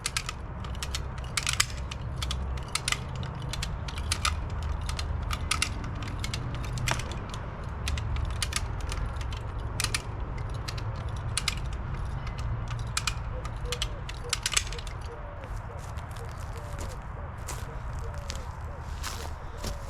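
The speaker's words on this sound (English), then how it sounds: "So what I now need to do is winch it that way and get some dirt under it." A winch ratchets in sharp repeated clicks while pulling a leaning tree upright, close clacks over a low rumbling background, continuing in an uneven rhythm throughout.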